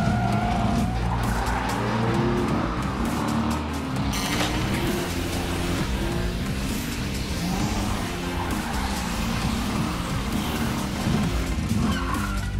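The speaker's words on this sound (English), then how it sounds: "Pump the pedal and drive like crazy?" A cartoon car floors the pedal and tears off wildly, tires squealing and skidding over a loud, continuous roaring engine with busy action sound around it.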